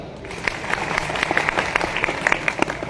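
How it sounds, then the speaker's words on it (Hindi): Audience clapping in response to a question from young women at a religious discourse with Bageshwar Maharaj, crisp scattered claps building into steady applause under a crowd murmur. "ताली बजाओ"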